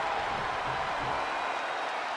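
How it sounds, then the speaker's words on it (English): A wrestling arena crowd roars in the WWE 2K22 game, a dense, loud, continuous wash of crowd noise with no distinct voices. "The sound of this crowd is deafening"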